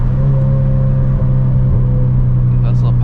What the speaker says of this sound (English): I don't know if you can hear it, but all the exhaust noise, the wind noise.